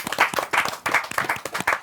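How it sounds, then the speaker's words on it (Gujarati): A short, lively burst of clapping from a small audience in a podcast studio, welcoming actress Ratna Pathak Shah, with uneven rhythmic claps lasting under two seconds. "ભાઈ એક વખત જોરદાર તાળીઓ રત્ના પાઠક શાહ"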